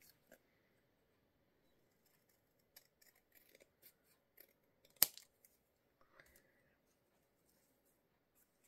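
Scissors trimming a small paper card, quiet close snips scattered irregularly with one sharper cut near the middle, otherwise near silence and no talking.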